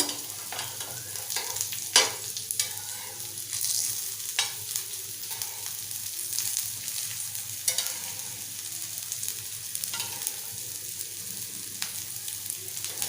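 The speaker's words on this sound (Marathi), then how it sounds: "आता आपण फिरवून दुसरी साईडही छान फ्राय करून घेऊया" Semolina-coated potato slices fry in a pan over low heat in the Malvani style, giving a steady close sizzle with a few sharp clinks and stirring scrapes, and no talking.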